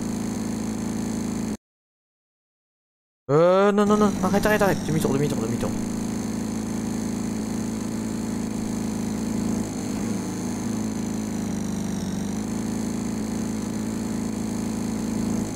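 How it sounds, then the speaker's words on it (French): Tractor engine idling and running steadily in a video game, with a low continuous hum after a brief silent gap; a voice speaks briefly over it. "C'est même pas mon tracteur, mais je le pétasse"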